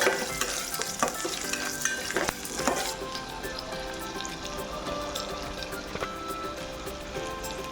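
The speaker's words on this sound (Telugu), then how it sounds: "ఇలా వెల్లుల్లిపాయ ముక్కలను కూడా వేసుకొని వేయించుకోండి" Ginger and garlic pieces fry in a pan for moringa leaf soup, giving a steady close sizzle with occasional scraping stirs and clicks of a utensil, and no talking.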